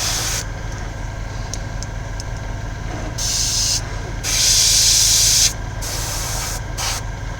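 Bursts of airbrush spray hiss over a painted model troll figure, several on-off blasts of differing length with one longer louder burst in the middle, close and alone over a steady low compressor hum.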